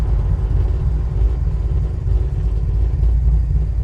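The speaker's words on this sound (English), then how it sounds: "Here's your high-speed braking." A 1969 Chevy Camaro RS/SS under high-speed braking gives a loud, steady low rumble of engine and road noise inside the car, with no talk.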